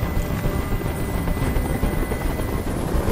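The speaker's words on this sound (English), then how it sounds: "Tell that helicopter to get out of here!" A helicopter's rotor in the video game Detroit: Become Human thumps loudly and steadily, a close, continuous chopping drone.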